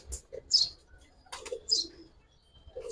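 Giribaz pigeons at a market stall, a few short chirps and coos with light rustling, close and moderately loud, with no talking over them.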